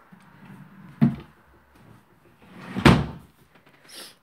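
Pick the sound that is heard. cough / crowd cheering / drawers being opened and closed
drawers being opened and closed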